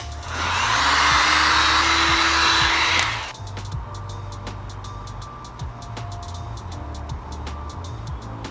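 A heat gun blows hot air over dirt bike graphics to warm a small ridge: a loud, steady whooshing roar for about three seconds, then it cuts out, leaving faint ticking and light handling noises.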